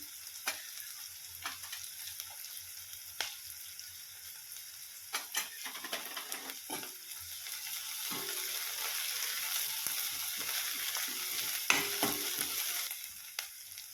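Garlic and green chillies fry in a pan for a green peas chutney, a soft sizzle with scattered stirring clicks and scrapes that thicken into a fuller, steady frying hiss in the second half, no voices.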